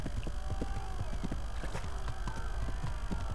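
Horse hooves in Kingdom Come: Deliverance, a steady rapid clip-clop of a ridden horse on the ground, close and continuous over a low ambient game backdrop.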